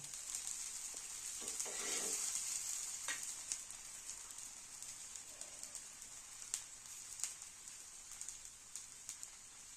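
Wheat-flour ghavane frying in a pan with oil drizzled around the edges, a steady soft sizzle with faint crackles, close and continuous, no talking.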